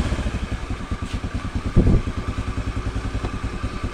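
A carbureted Honda Beat scooter, prone to stalling and fitted with a new regulator rectifier, idles with a steady rapid putter, then gets one short throttle blip before settling back to its even running beat.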